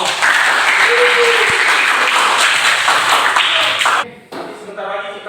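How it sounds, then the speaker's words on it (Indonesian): Students in a physical education class applauding, a steady burst of clapping for about four seconds that then fades into scattered claps and voices. "silakan boleh kita beri tepuk tangan untuk kalian semua"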